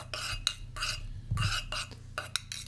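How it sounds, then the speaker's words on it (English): A screwdriver stirring tea in a cup, a quick series of metallic clinks and scrapes against the sides, close and fairly quiet, with short pauses between strokes. "Are you stirring your tea with a screwdriver?"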